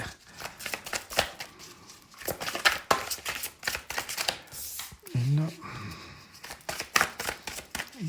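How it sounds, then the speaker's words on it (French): Large tarot cards being shuffled by hand, a rapid run of riffling, slapping card sounds close by, with a voice speaking briefly partway through. "C'est des grandes cartes, pas faciles à brasser."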